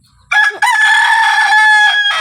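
A rooster crows loudly and close by, one long strained cock-a-doodle-doo with a brief break near the start, then a short extra note at the end.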